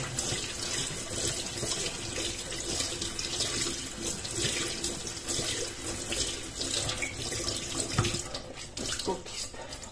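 Cold water runs steadily from a tap into a sink during wet felting of a drumstick head, a continuous splashing rush with a brief heavier gush near the end and no clear talk.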